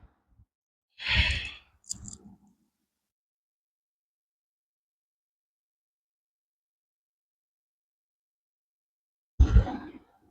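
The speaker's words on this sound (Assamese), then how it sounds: "উশাহটো এৰিম" During the Mandukasana yoga pose, a person exhales audibly in a short breathy sigh, then a softer puff, and a final strong exhale follows after a long silence.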